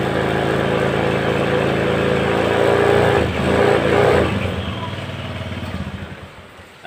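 Honda BEAT scooter-type motorcycle engine, a model with a charging-system fault, revving up in sustained throttle bursts close by, then settling back toward idle as the engine note drops; a voice is faintly mixed in.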